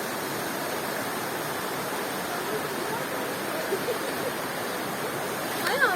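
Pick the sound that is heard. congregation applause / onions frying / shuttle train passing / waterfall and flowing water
waterfall and flowing water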